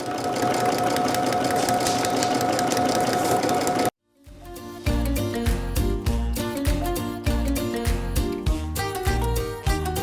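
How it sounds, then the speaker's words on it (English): A sewing machine stitches fabric along a line during foundation paper piecing, giving a steady, close motor drone for about four seconds before it cuts out and rhythmic music takes over. "continue to sew down your line"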